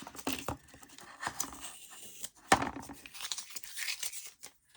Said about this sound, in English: I'm just going to take this masking tape off